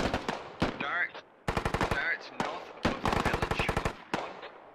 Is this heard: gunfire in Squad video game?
yes